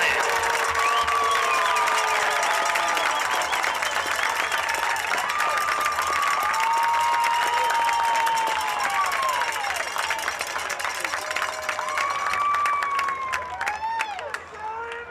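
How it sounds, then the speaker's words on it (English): A football stadium crowd applauds and cheers for the Betsy Band, the 2024 Division II state champion marching band, at a playoff game; broad, sustained clapping and scattered shouts fill the stands over a long stretch, with voices mixed in. "Please join us in a round of applause for your 2024 back-to-back-to-back Division II state champion, our very own the Betsy Band."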